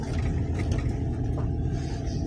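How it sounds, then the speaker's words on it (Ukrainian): Steady, loud low rumble of a loaded car driving along a village street, heard from inside with constant road and engine noise and no pauses. "Ну от загрузився і їду."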